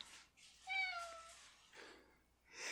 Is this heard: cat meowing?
yes